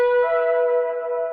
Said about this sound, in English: And this is the sound of the shofar.